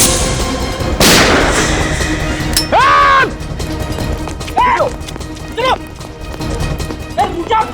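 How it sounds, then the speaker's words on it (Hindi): Gunfire erupts in a TV crime drama scene, with a loud sharp burst near the start followed by scattered shots and clattering impacts, while voices shout and talk over the action. "फायर कहाँ से हो रहा है?"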